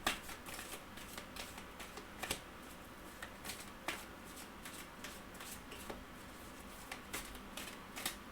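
Oracle cards being shuffled by hand in a quiet room, a soft steady run of papery riffles and flicks with sharper snaps scattered throughout, no voices.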